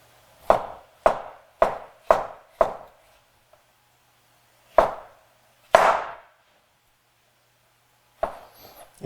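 A knife chops fresh tomatoes on a cutting board for shrimp ceviche, with five quick evenly spaced chops, then two heavier single cuts after a pause and a final softer scrape, close and clear with no talking.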